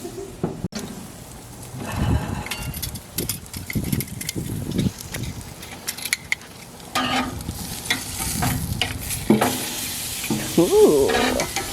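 Loud, steady sizzling of steak frying in a hot pan, with scraping and stirring noises and a few clanks throughout.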